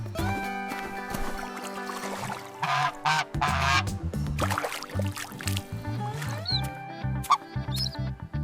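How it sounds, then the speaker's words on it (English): Geese at a pond honk loudly, with several harsh, nasal calls in irregular bursts at close range and no speech over them. "Geese make loud sounds."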